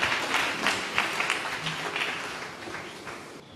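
Church congregation clapping together during a service, a dense patter of many hands that starts strong and slowly fades, with faint voices mixed in.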